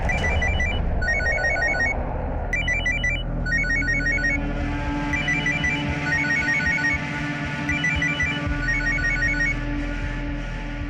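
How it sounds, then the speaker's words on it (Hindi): A telephone rings over and over in repeated electronic bursts, loud and steady, with a low hum underneath and no one answering. "फोन नहीं उठा रही है, शायद बिजी होगी"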